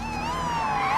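A police siren from a Daredevil TV episode wails in a single smooth rising-and-falling sweep, loud and close, sounding alone with no talk over it.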